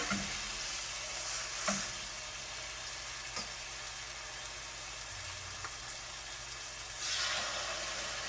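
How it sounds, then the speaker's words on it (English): Steady sizzle of chicken frying in a hot skillet fills the clip, a continuous broadband hiss with a few brief louder crackles and stirs, close and moderately loud. "I love that sizzling noise."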